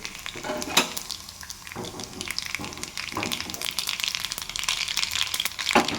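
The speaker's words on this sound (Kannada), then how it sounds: "ಗೋಲ್ಡನ್ ಫ್ರೈ ಆಗ್ತಾ ಇದೆ" Crushed garlic frying in hot oil for sambar, turning golden, with a steady close sizzle and occasional stirring scrapes throughout.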